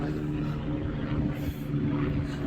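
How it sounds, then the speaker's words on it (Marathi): Helicopter passing somewhere overhead, heard as a continuous low rumbling drone with a steady throb, moderately loud and unbroken, with no voices over it. "आता हेलिकॉप्टर जात आहे की काय माहिती"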